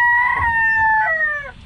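A nearby rooster crows once, loud and close, a drawn-out call with a rising start and falling tail, with faint low background noise from a cockfighting-area setting.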